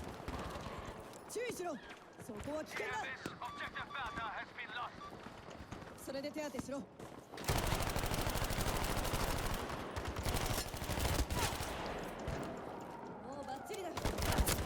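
Gunfire in the shooter Battlefield V, rapid bursts of weapon fire and a busy battle din around a player, with someone talking over it and the shooting growing denser and louder later.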